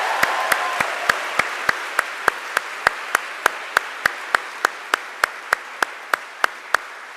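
An audience at a public conversation event claps in steady unison, sharp evenly spaced beats about three per second that go on for several seconds over a faint background murmur.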